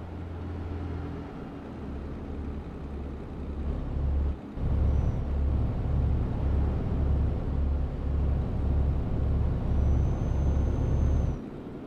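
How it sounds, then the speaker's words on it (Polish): A loaded heavy truck in Euro Truck Simulator 2 picks up speed downhill, its engine a steady low drone with a rhythmic pulsing that grows louder partway through and continues to the end. "zaczyna nam się ta nasza ciężaróweczka rozpędzać tutaj z górki."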